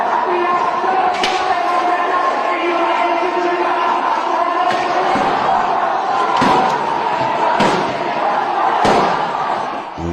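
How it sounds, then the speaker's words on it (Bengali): Gunfire in recorded footage of a violent street clash with police. About five sharp, loud bangs are spaced irregularly over a constant backdrop of voices and crowd noise. "গুলি চালাচ্ছে"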